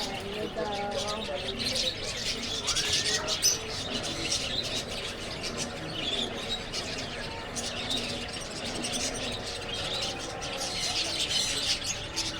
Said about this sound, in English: Oh, they got birds, parakeets.